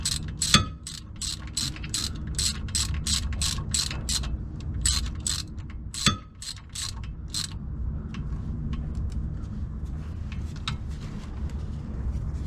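Rapid clicking of a ratchet tightening the bolts on dual caliper brackets, several quick bursts of sharp clicks with short pauses between them, close up and alone, no talking.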